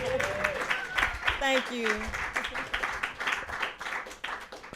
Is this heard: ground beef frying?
no